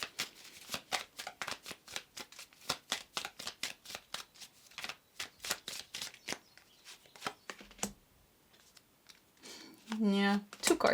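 Tarot cards shuffled rapidly and near, a long run of crisp riffling flicks and slaps, then a short pause and a final burst of shuffling with a brief tonal squeak.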